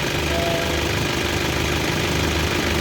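A 2012 Isuzu Panther diesel engine runs steadily with a dense, continuous rumble and faint mechanical knock, loud and close throughout with no talk.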